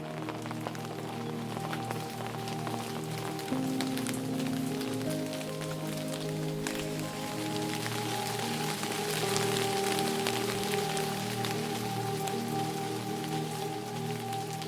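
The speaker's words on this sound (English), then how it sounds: "who doesn't love the sound of raindrops on your tent" Rain patters steadily on a tent during the wet season in Botswana's Okavango, a dense, continuous hiss of drops close by with no voices.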